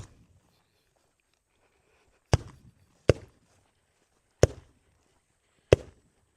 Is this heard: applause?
no